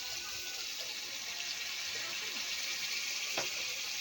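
Water pours steadily into a pan of cooking chicken, making a constant rushing hiss mixed with a light sizzle. A small splash is heard near the end.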